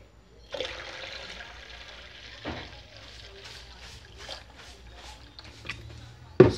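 Cold water is poured into a container, giving a continuous trickling and splashing stream with a few sharper splashes and a loud bump at the very end.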